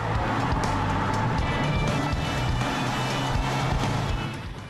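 A 1954 Beutler convertible, a coachbuilt VW, drives along with a steady, moderately loud engine and road rumble that holds throughout and eases off slightly at the end.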